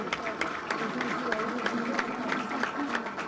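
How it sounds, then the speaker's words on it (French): Applause at a Haitian police graduation ceremony for the 34th promotion, many hands clapping in a steady patter as a graduate walks up, moderately loud, with a voice faintly beneath the crowd. "qui arrive sous vos applaudissements"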